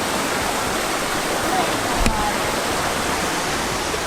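A waterfall in western North Carolina rushes with a loud, steady, broadband roar, heard close up and unbroken throughout, with a brief small knock partway through.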